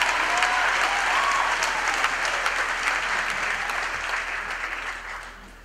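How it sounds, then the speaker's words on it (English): Audience applause for a choir at a university graduation ceremony in a large hall, a dense steady wash of clapping that slowly fades toward the end. "Can we give them another big round of applause?"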